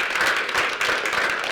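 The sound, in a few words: audience applause for the sponsors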